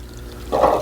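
Water from a guppy pond being drawn down by a pump, a soft steady wash and gurgle that swells louder about halfway through the short stretch, with no voices.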